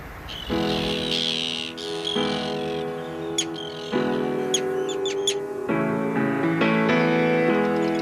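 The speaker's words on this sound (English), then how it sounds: "It's an Arctic tern, it's an extraordinary bird" Arctic terns calling at a seabird colony on the Farne Islands: overlapping harsh, grating cries and sharp chirps repeating steadily at close range, with several birds calling at once and no talk.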